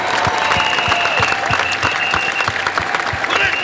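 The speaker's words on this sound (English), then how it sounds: "can we give a mighty applause" A crowd at a Labor Day speaking event in Chicago breaks into loud, sustained applause, dense and steady clapping filling the whole stretch with a few sharper claps standing out near the front.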